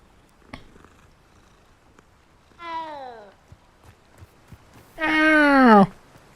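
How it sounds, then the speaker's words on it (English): A cat in the Hogwarts Legacy video game gives two drawn-out meows while being petted, the second louder and longer, separated by quiet gaps with faint clicks. "Oh, I was petting the cat."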